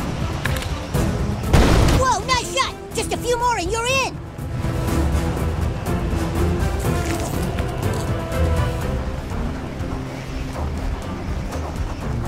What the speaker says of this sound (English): Then you can blow up Stan's last defense.